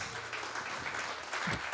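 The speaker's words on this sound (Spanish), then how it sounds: "Dale un aplauso a Jesús" A church congregation at a Spanish-language service applauds for Jesus, a dense wash of many hands clapping together that stays fairly soft and steady throughout.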